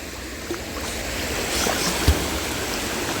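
Steady broadband rush of water from a waterfall beside a river, a continuous close wash with a few small knocks and splashes, no voices.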